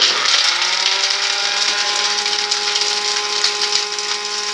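Mixer grinder grinding almonds and pistachios into powder, a loud steady whining motor hum with a strong pitched tone held throughout, close and uninterrupted.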